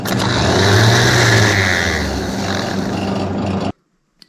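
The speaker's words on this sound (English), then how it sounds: "The starter doesn't sound so great, to be honest with you." The starter motor on a Datsun cranks poorly: a loud, close, rough mechanical whirring and grinding runs steadily for a few seconds, then stops abruptly into silence.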